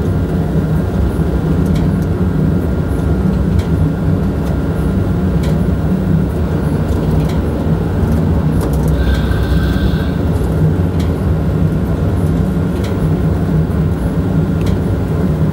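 Steady rumble from inside the cab of a BB 27300 electric locomotive hauling a VB 2N double-deck train between Paris and Dreux, with continuous running noise and a brief higher whine partway through as braking begins.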